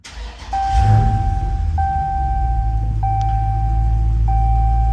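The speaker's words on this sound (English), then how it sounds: "we're just going to use the top of this to push the stop-start button" A Dodge Challenger's engine cranks after its push-button start and catches into a steady, loud idle, with a repeating chime tone sounding over the running engine.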